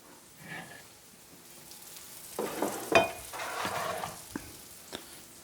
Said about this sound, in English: So now we're ready to go ahead and start to pan fry for the veggies